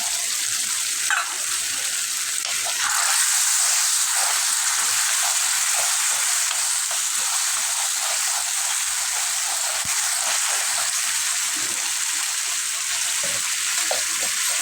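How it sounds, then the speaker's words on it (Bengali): Water poured into a pan of frying fish curry, a loud, steady, close hiss of sizzling oil that continues unbroken throughout, with no talking over it. "দেখো বন্ধুরা আমি একটা করে জল দিয়ে দিচ্ছি এখানে"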